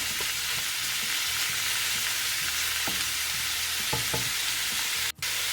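Pork and liver igado cooking in a pan, with a steady close sizzle and occasional soft stirring clinks, ending in a brief sharp knock like a lid being set down.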